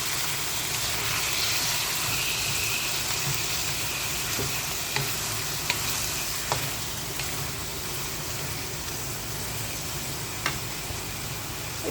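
Chicken and tomato curry cooking in a pan, a steady loud sizzle and bubble with occasional soft clinks and scrapes of stirring throughout.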